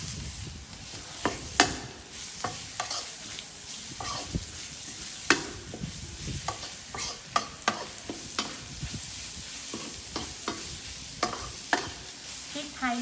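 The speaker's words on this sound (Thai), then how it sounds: "สับเอาหมูสับลงไปผัด ลงไปผัดให้สุกนะคะ" Minced pork stir-fried in a pan over medium heat, a low steady sizzle punctuated by frequent sharp scrapes and knocks of a spatula against the pan, close and without voices.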